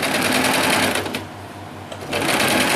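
A sewing machine runs fast and steady while stitching satin ribbon down the center of net fabric, pausing briefly in the middle before resuming its close, continuous whirring.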